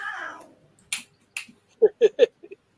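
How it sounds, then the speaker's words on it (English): Cats fighting on either side of a door, with a strained yowl at the start followed by sparse thumps and a few short, sharp yelps and hisses at moderate distance. "Friggin' cats out here trying to fight between the door."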